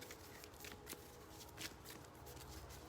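A question card is pulled from a deck, giving soft papery shuffling and riffling with a few light flicks and taps. The sound is quiet and close, with no talking.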